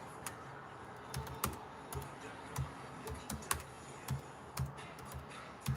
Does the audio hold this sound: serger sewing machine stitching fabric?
no